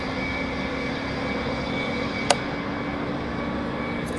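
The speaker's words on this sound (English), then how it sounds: "Engine 1 going" An F-14 Tomcat jet engine starts in the FSX flight simulator game during carrier operations, giving a loud, steady roaring whine with a single sharp click partway through and no speech over it.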